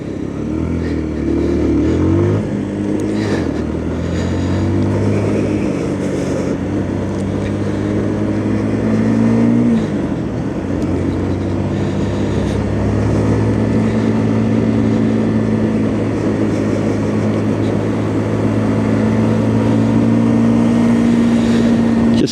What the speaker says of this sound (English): Just going to let the bike over rev a little bit as I'm riding